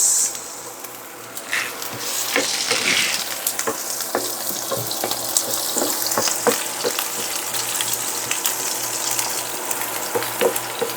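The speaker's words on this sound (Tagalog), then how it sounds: "At lang gigisahin ang bawang at sibuyas." Garlic and onion sautéing in a pan for a tuna flakes dish, a steady close sizzle and crackle with a few scraping stirs and faint clinks, and no one speaking.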